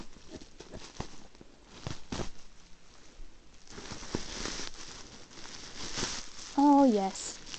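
Paper and plastic packaging rustle and crinkle, with scattered snips and taps and a voice humming briefly near the end.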